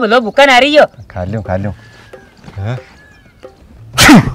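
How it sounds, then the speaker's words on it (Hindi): A single sharp sneeze bursts out at the very end of a Rajasthani comedy sketch, right after a stretch of a man's chatty dialect speech. It is loud and close. "मने तो छींक आ गई"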